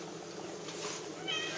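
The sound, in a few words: cat meowing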